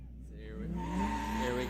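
A nitrous-fed drift car and a turbo-boosted drift car in a drift competition final round, their engines revving and rising in pitch with a hint of tire squeal, loud and brief.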